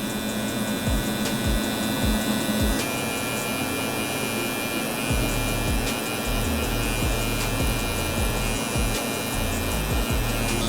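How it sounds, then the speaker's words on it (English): An electric hair trimmer buzzes steadily and close up while cutting a low fade on curly hair, a continuous hum with slight shifts in pitch as it moves across the head. "just let my machine do all the work, start at the top. So my trimmer like this on the side."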